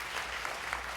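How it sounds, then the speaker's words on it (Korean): A church congregation at a Wednesday prayer meeting claps, a brief, fairly quiet patch of steady applause with no clear talk over it. "우리 박수 한번 해드립시다."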